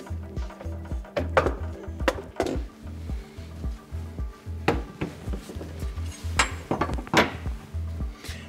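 SawStop AIM brake cartridge being pulled out of a Festool TKS 80 table saw, a close series of irregular metallic clunks, clicks and knocks spread throughout, with no voices.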